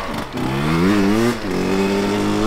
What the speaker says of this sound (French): C'est le rodage de la moto.